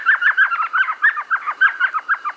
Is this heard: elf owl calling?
yes